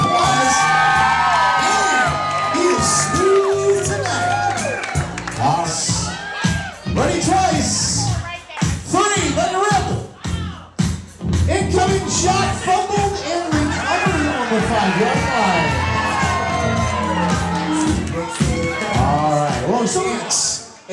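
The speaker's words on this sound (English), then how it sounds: "Let's give our group a round of applause." Guests at a wedding reception shout, whoop and cheer in a loud, lively crowd for about twenty seconds, with excited voices and children yelling over one another and brief lulls between surges.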